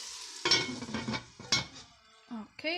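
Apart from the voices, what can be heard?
carrots and celery cooking in a Dutch oven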